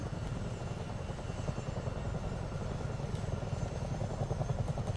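Steady rotor thump and turbine drone of a Chinook helicopter in Microsoft Flight Simulator 2024, a constant, even engine hum with no voices.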